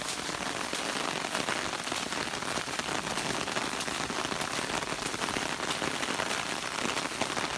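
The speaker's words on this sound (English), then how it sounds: "The rain's actually picking up a little bit as I walk through this." Steady rain pours onto a flooded backyard, a dense, even hiss of drops striking water and ground that holds at a constant level throughout with no voices.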